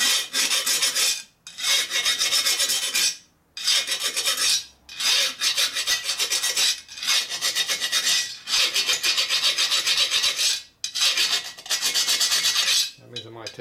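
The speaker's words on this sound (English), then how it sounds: "Appears the cylinders are pretty hard. That makes it even more fun to hone." Cylinders of a 1942 Harley-Davidson XA 45ci military flathead engine being honed, hard bores giving loud, close rasping strokes in long bursts of a second or two separated by short pauses, repeating steadily.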